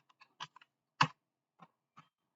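A laptop keyboard clicks as the ifconfig command is typed, with a handful of sharp, close keystrokes at irregular intervals in an otherwise quiet room.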